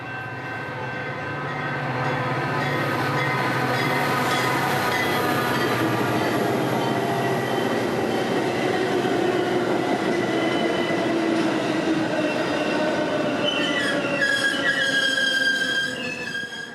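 An Amtrak passenger train races past at speed near Chicago between Naperville and the city, a long steady roar of rolling wheels with high squealing tones that rise toward the end, loud and close with no talk.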